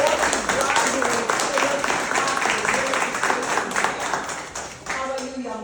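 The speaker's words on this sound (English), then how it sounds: "give her a huge hand of applause before she graduates" An audience gives dense, sustained applause, many hands clapping at once and filling the room before it thins out near the end.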